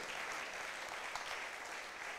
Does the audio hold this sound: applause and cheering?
yes